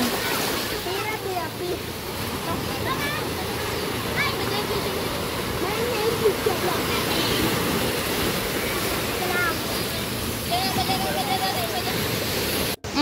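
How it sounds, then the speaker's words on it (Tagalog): Strong sea waves at a beach make a loud, continuous roaring wash with no breaks, and faint voices and high calls come through over the surf. "Malakas ang alon."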